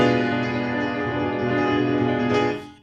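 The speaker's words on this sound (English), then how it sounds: "Diminished chords sound like this." A single diminished chord is struck on piano and held, ringing steadily at moderate volume before fading out at the end.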